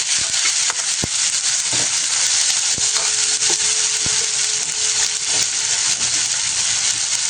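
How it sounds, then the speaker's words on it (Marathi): Garlic cloves and onions sauté in a pan of oil for a Maharashtra-style chicken rassa bhaji. A steady, close, broadband sizzle runs throughout with faint stirring scrapes and no talking. "लसणाच्या पाकळ्याही कांद्यामध्ये आपल्याला चांगल्या परतून घ्यायच्या आहेत।"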